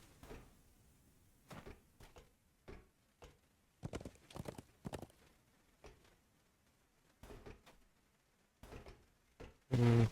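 A horse's hooves clop in short irregular bursts during Dungeons and Dragons Online play, fairly faint and spaced out, with a louder thump at the end.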